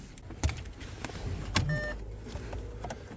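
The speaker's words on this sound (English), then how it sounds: "Headlight switch squealing away while we work" An Audi A4 B8 headlight switch squeals during repair work, with a brief thin whine among clicks and knocks of handling inside the car, fairly quiet and close.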